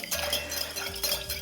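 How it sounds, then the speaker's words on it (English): A whisk clinks against a bowl as it stirs chocolate cake batter to melt the last bits, with quick light metallic taps that are faint and close by. "going to whisk that to melt the final few bits"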